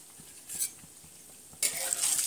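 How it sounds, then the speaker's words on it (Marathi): Vada pav dropped into hot oil: a quiet spoon stir and faint tapping give way to a sudden loud, bright sizzle that continues, with no voices. "वडापाव आपण सोडलेत आता तेलामध्ये तळण्यासाठी।"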